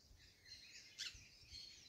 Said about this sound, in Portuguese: E olha o barulho dos periquitos, pessoal, das jandaias